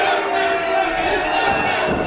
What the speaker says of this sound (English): He's got a chant from the crowd.